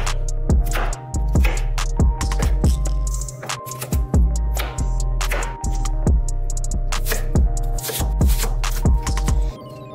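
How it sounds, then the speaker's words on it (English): Knife chopping a pepper for a salad, a brisk run of sharp, close cutting-board taps in an uneven rhythm throughout. "How do you chop a pepper? I just cut it in slices and cut it into pieces"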